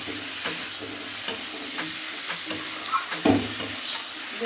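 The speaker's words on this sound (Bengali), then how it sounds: "মশলাটা ভালো করে কষিয়ে নেব।" Cumin powder and chilli powder masala fry in a pan for a fish curry with potato and eggplant, giving a steady close sizzle with occasional scraping stir strokes.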